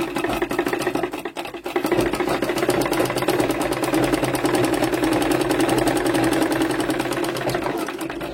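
A domestic sewing machine runs steadily, stitching a prince-style blouse; a fast, even mechanical whirr and needle chatter continues nearly the whole time, close and loud, with a brief pause near the start.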